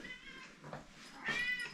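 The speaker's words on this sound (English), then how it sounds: "There's a little cat meowing." A small cat meows a couple of times, soft and fairly close, with faint background noise.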